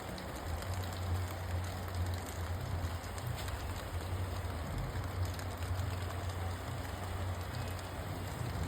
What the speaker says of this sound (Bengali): কি ঝুম বৃষ্টিটা নামছে